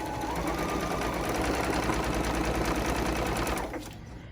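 A sewing machine chain pieces quilt blocks, a steady, fast, close mechanical whir running for several seconds before it slows and stops.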